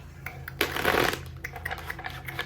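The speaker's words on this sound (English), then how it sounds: "Let's do one more shuffle because that first one was really not it for me." Tarot cards shuffled by hand, a close riffle of dense flicking and clicking with one louder burst, then scattered softer card snaps over a low background hum.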